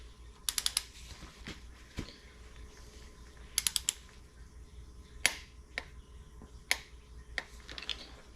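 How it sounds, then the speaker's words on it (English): A ratchet wrench torques the camshaft bolt on a Ford FE 445 engine during final assembly, with quick bursts of crisp ratcheting clicks followed by single sharp clicks at a close, quiet bench. "Camshaft bolt gets torqued to 45 foot-pounds."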